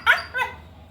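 A chained pet dog at night lets out two sharp, close barks in quick succession, with the second a bit softer, and no talking alongside.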